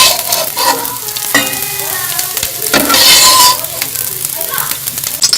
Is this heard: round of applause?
no